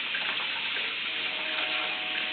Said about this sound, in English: I'm going to rinse these off.